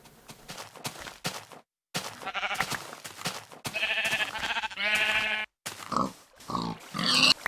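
Pig grunts from the video game Minecraft, several short snorting calls in separate bursts, fairly loud and close, with no speech over them.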